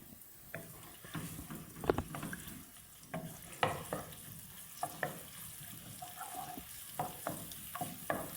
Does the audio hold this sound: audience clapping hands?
no